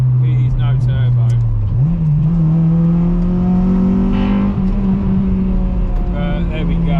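Car engine pulling hard through the revs into Honda VTEC, a loud continuous drone whose pitch climbs steadily then holds high, close up inside the cabin.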